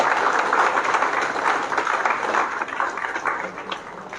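Big round of applause for a student being felicitated on stage at an academy event: dense, steady clapping from a crowd, fairly loud and continuous throughout, with no voices rising above it.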